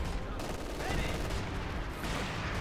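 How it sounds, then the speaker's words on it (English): A Company of Heroes 2 1v1 battle fills the soundscape with dense, continuous gunfire and explosions, a rough barrage of overlapping blasts and bursts of machine-gun fire. "Explosions left and right."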